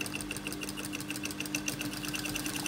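Steady whirring hum of a sewing machine running continuously while stitching a pyjama seam, close and even, with a fast regular rattle of the needle throughout and no talking.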